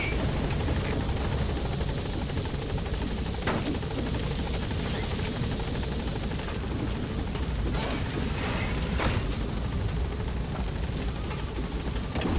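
The Pequod helicopter hovers on station at a landing zone in Metal Gear Solid V: The Phantom Pain, a steady dense rotor and engine roar that holds loud and unbroken throughout, with faint mechanical clicks over it and no talk.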